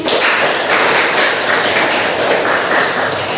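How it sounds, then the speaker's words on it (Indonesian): A classroom group claps for a classmate during a guidance-and-counselling lesson, loud close-up clapping that runs steadily throughout with no talk over it. "Baik, beri tepuk tangan buat Mariani"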